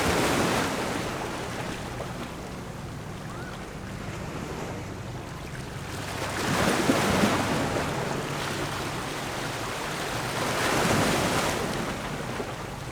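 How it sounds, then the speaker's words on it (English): Waves wash onto the shore at sunset near Seattle, a steady broad surf rush that swells twice into louder breaking surges, with wind noise and no voices. "listen to the water"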